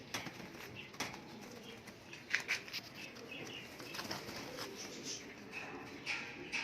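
Pigeons flap their wings in short, soft bursts close by, with faint cooing and rustling in a quiet indoor loft-like space.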